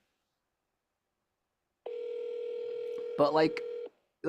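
A telephone ring tone sounds while a district office is being called: one steady, continuous tone of about two seconds after silence, with brief speech cutting over its end.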